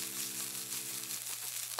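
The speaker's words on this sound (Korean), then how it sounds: "충분히 볶아서 채소가 숨이 죽으면" Sliced carrots and other vegetables stir-frying in a hot pan, a close, steady sizzle with a low hum beneath and a brief scrape or clatter near the end, no voices.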